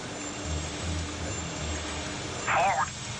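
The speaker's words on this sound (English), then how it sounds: "The technician eliminates the other sounds in the cockpit one by one, until all that's left is the sound of the engines." Jet engines drone steadily on a cockpit voice recorder, a low, constant hum with a thin high tone on top and a short warbling electronic chirp near the end.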